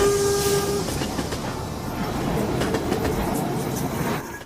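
A train runs past with a short horn blast at the start, then continuous rumbling and rhythmic rail clatter at moderate loudness, fading slightly near the end.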